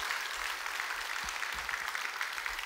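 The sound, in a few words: church congregation applause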